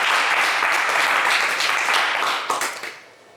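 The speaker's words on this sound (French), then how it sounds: "Mais on vous applaudit quand même très fort." Studio audience at a French television game show applauds loudly in a steady dense wash of clapping that fades out near the end.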